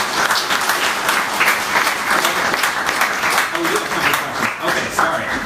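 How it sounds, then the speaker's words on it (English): Applause from a panel audience honoring caucus vice chairs, steady dense clapping filling the room throughout with a voice occasionally audible beneath it. "Let's give them a big round of applause"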